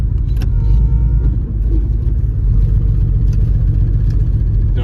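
A 1967 Ford Mustang Convertible pulls away after being shifted into drive, its engine a steady, loud, close rumble with a continuous low drone and no voices.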